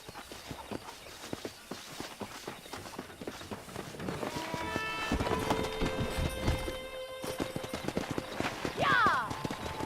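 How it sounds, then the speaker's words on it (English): Horses galloping with rapid clip-clop hoofbeats, then a whinny near the end, during horse wrangling in the video game Red Dead Redemption, mixed with talking voices and music. "Let's see if we can't wrangle some horses."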